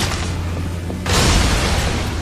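A bomb plant blowing up in the video game Darksiders: a low hum gives way to a sudden loud, broad blast that rumbles on for over a second.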